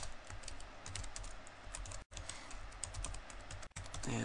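A computer keyboard clicks with a quick run of keystrokes as a login password is entered, soft and close, with two brief pauses between bursts and no talk.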